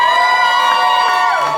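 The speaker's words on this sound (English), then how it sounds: "That is the cheapest applause line ever." Audience at a stand-up comedy show cheering and whooping, a brief loud burst of crowd noise with high shouts, fairly close.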